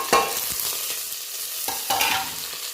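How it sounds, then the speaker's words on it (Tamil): Ground garlic, pepper and cumin sautéing in a pan for tomato rasam, a steady close sizzle with a few scraping stirs of a spoon. "நல்லா வதக்கி விட்டுக்கலாம்."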